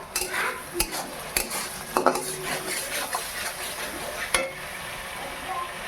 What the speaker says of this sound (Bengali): এবার দিয়ে দেবো শুকনো লঙ্কা আর কাঁচা লঙ্কা একটা।